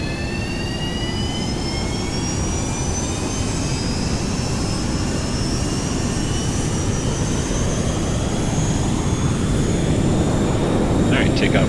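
FlyJSim Boeing 737-200 jet engines run at takeoff power in X-Plane 11, a loud steady roar with rising whine tones climbing throughout, holding strong from start to finish.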